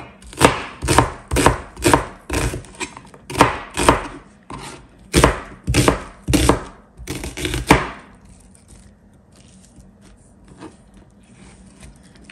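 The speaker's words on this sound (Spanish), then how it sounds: "voy a picar la cebolla" Onion being chopped with a knife on a cutting board for a bean stew, about a dozen close, sharp, evenly spaced knife strikes in a steady rhythm over eight seconds, then quiet room tone.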